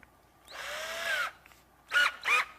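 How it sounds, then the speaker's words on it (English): A power drill bores through an EVA foam grip with a 3/4-inch bit: one sustained whining run, then two short whirring bursts, close and clear with no speech. "Then we're going to go into the drill bit."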